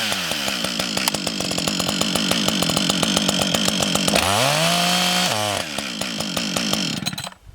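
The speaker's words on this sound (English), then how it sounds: "I started up the saw, got the chain spinning, and then I engaged the brake" Chainsaw running with its chain spinning, a loud buzzing two-stroke drone that dips to a lower tone as the chain brake engages, then revs on before cutting off at the end.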